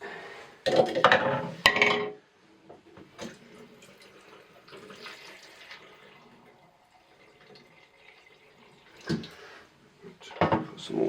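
Water runs and splashes into a container at home in loud close bursts at the start and again near the end, with quieter trickling and handling noise between.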